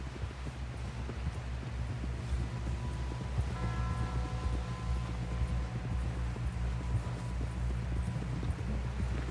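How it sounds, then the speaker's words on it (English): Horse hooves clip-clop at a steady walking rhythm throughout in the Red Dead Redemption 2 video game, close and continuous over a low ambient backdrop with a soft tonal swell midway. "Someone help John down off this horse."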